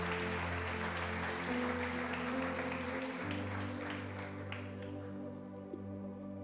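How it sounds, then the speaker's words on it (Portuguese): A church congregation claps for Jesus during a worship service, a broad, steady wash of applause over sustained keyboard chords that fades gradually toward the end. "Aplaude bem forte a Jesus"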